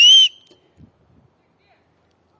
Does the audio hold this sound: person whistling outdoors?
yes